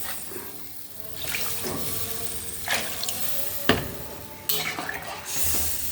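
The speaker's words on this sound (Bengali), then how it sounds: "এবার এর মধ্যে আর একটু জল দিয়ে দেবো।" Water poured into a fish curry pot with potatoes and vegetable stems, a close splashing rush with clinks of cookware and stirring between pours.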